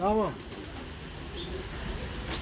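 A pigeon at a bird market gives a single soft coo near the start, followed by quiet market background with faint bird calls.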